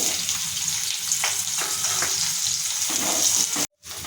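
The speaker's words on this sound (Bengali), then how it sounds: "গরম তেলে দিয়ে দিচ্ছি পেঁয়াজ কুচি" Chopped onion dropped into hot oil crackles in a steady, loud close-up sizzle with a few stirring scrapes, then cuts out abruptly for a moment near the end before the frying resumes.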